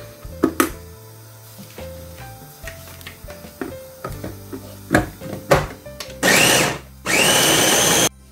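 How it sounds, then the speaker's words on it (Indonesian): A blender whirs loudly in two bursts of a few seconds each, grinding spice paste for sate padang, preceded by scattered clinks and knocks of kitchen handling. "ini bumbu halus ini yang belum dihaluskan mau mak blender aja ya"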